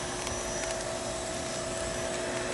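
A vacuum cleaner sucking baking soda off a surface, a steady, loud, continuous whooshing roar of suction that holds unchanged throughout with no talking.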